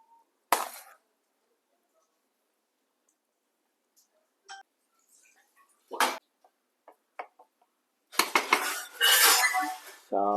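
Half-cooked rice spread across a pot of Kerala-style ghee rice dum biryani with a metal spoon, giving sparse close clinks and scrapes against the pot between quiet gaps, then a longer scraping run near the end.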